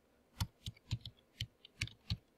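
Keystrokes on a computer keyboard as a network command is typed: about seven distinct clicks in an uneven rhythm, close and quiet, with no talking.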